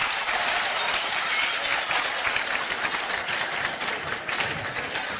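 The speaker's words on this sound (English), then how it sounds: "Are you clapping for that?" Steady, dense applause from a conference audience at a university student wellbeing event, continuous and fairly even throughout with no voices over it.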